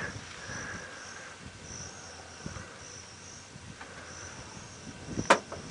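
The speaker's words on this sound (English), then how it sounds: "crickets calling, that's almost all we can hear at the moment" Crickets call steadily in the bush at dusk during a safari drive. Their faint, continuous chirping fills the quiet, with a few soft clicks and one brief knock near the end.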